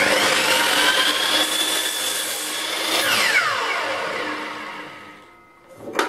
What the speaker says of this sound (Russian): Теперь мы можем спокойно нарезать заготовки одинаковой длины.